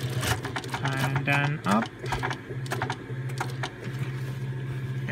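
A sewing machine stitches a bag in fast, steady runs with brief pauses, its mechanical whir close and loud while a person talks over it.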